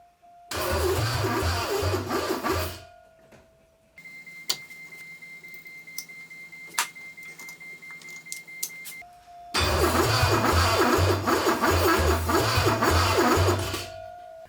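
A Porsche 928 engine cranks repeatedly with a rhythmic churning starter whir that never catches, two long attempts separated by a quieter pause with faint clicks.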